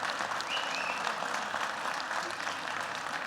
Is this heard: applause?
yes